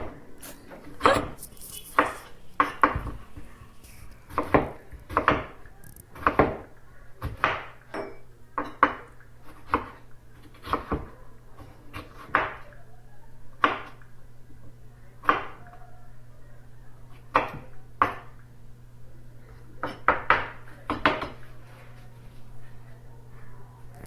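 A knife slices pechay on a cutting board in a home kitchen, about twenty sharp chops landing in uneven bursts over a low steady hum, close and distinct.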